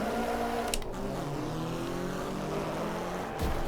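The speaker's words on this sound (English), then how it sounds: "This car sounds sick. Here we go, revving it up," A car engine in the racing video game Wreckfest drones and revs continuously, its pitch rising and shifting, with a brief burst of noise near the start and end.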